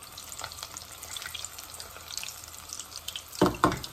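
Falafel balls sizzle in hot oil as they are carefully turned for a crispy outside, a steady frying hiss with a couple of sharper spatters and stirring sounds near the end.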